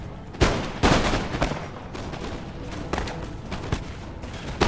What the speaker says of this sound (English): I want to chop you guys up with musket fire